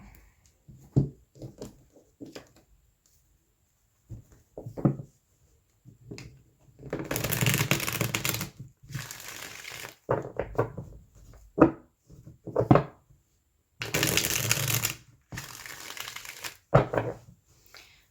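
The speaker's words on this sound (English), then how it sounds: "Let's move these cards down and these over." Tarot cards being moved and shuffled on a table, heard as bursts of rapid riffling and soft sliding taps that come and go in close, quiet bursts, with no talking.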